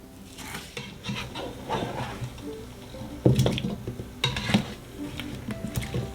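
Stirring a Sri Lankan-style pumpkin and coconut curry in a pot, with soft wet scraping and scattered utensil clinks against the pot, close and moderately loud, coming in irregular bursts with no talking.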